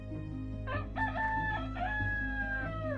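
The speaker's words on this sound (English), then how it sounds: "There's the rooster." A rooster crows in the town-building video game Towns, a single drawn-out cock-a-doodle-doo over a steady low background hum, clear and moderately loud.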